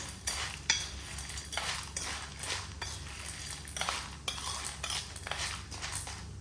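A spoon stirs black chickpeas as they roast in a pressure cooker pot, making repeated close scraping and clinking strokes of metal on metal in an uneven rhythm.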